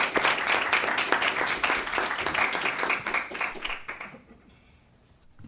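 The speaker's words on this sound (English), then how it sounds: "big round of applause for her." An audience at a school board public meeting claps in a dense burst of applause that holds steady for several seconds and then fades away to near silence.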